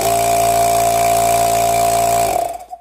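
2 HP two-pole electric compressor motor running on only one capacitor, a loud steady hum with strong tonal buzz for over two seconds, then winding down quickly as it shuts off.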